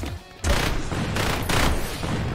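Turret gunfire from a power-up in the roguelike game Repetendium, where the player fights as a chicken; a dense, loud rattling fusillade that kicks in after a brief quieter moment and continues without pause.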